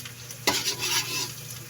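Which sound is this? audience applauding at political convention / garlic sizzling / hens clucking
garlic sizzling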